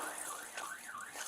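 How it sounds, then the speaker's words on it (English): A car alarm blares nearby during a tense police confrontation with an armed homeowner in Phoenix, its warbling siren tone sweeping up and down repeatedly and steadily loud, with no talk over it. "Your alarm's going off!"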